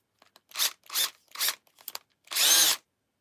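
A drill fitted with a bit matched to a pin's size bores into material in several short whining bursts, then one longer run, close and clear with no talking.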